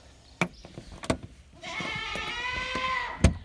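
A sustained, wavering bleat from a goat on a farm lasting a couple of seconds, preceded by a few sharp knocks and clatters nearby.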